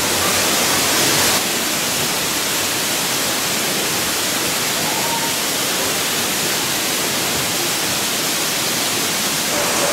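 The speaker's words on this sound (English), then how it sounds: "Here I am at the Emerald Pool with the falls in the background." The waterfall at Emerald Pool, heard from inside a cave in front of the falls, roars as a steady, loud, dense wash of falling water that fills the whole stretch without a break.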